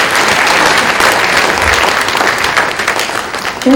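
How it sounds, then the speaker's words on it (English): Sustained audience applause at a university special congregation ceremony, dense steady clapping from a large crowd filling the whole stretch, loud and continuous without a break. "shall we give another applause to Dr. Moeti all the way in South Africa?"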